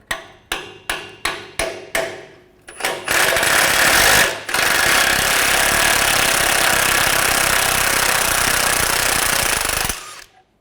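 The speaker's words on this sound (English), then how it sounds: "I'm just going to hammer it on" Six sharp metallic hammer blows drive a socket onto a rusty nut during catalytic converter replacement on a 2007-2014 Chevrolet Silverado 2500 HD, in a quick, even series, followed by a long, loud, continuous mechanical roar.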